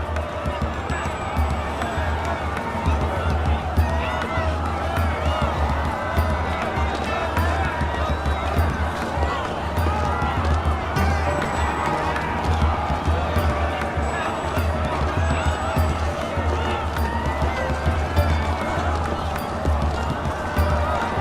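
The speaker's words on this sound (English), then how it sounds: "Let's get to the front before the crowd pushes us back." A dense protest crowd in the game 1979 Revolution: Black Friday roars steadily, with a continuous wash of voices, shuffling feet and murmured chanting, loud and unbroken throughout.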